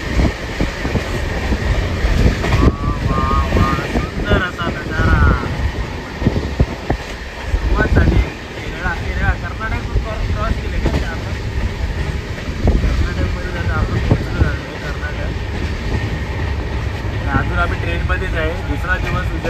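Inside a moving passenger train, a continuous rumble and rattle of the carriage with rhythmic clicking of wheels over the rails, while people talk nearby.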